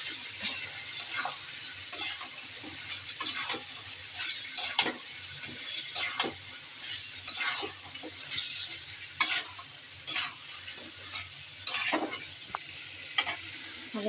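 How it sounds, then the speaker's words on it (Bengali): Meat hits a pan of frying spice paste and sizzles steadily, with a bright hiss throughout, punctuated by repeated scraping stirs and clinks of a utensil against the pot. "মাংসের জন্য মশলাটা কষিয়ে নিলাম। আমি মাংসটা দিয়ে দেবো।"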